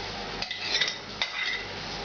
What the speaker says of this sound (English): Give this a quick stir.